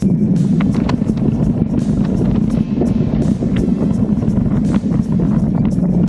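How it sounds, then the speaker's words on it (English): Gusty wind buffets a sailboat in the lee of an island off Madeira, a loud, constant rushing roar with rumbling low gusts across the whole stretch and no voices. "We got some gusty wind, as you just saw."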